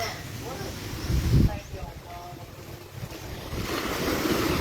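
Surf washing against the coast at Dauin, a steady broadband wash of waves and wind noise buffeting the microphone, with a louder surge near the start and some talk mixed in.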